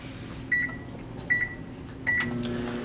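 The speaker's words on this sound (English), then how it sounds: "we set the microwave for 20 seconds and start it up." Microwave oven with aluminum foil inside, three short loud beeps from the keypad as the 20-second timer is set and started, over a steady low hum.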